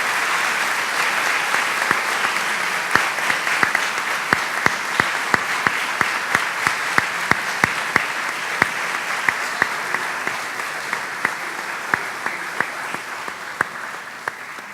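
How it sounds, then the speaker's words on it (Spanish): Steady audience applause after two panelists finish speaking at a legal talk on an amnesty law ruling, a sustained wash of many hands with occasional sharper claps standing out, continuing for the whole stretch. "Vamos a darles un gran aplauso a nuestros dos ponentes."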